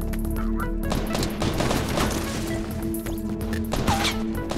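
Rapid video game gunfire crackles in a dense, continuous burst of shots and impacts, loud and close throughout.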